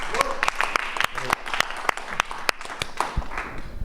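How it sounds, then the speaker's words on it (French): Scattered hand claps ring out at a post-fight press conference for an MMA event, sharp individual claps in an irregular rhythm with talking mixed in. "Et ben on peut t'applaudir encore une fois."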